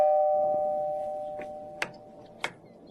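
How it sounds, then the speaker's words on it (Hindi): A doorbell rings at a house door in a sitcom scene, with a sustained chime tone fading out, followed by a few quieter sharp clicks or taps. "फिर घंटी बजाओ ना, कहीं खड़ी हो।"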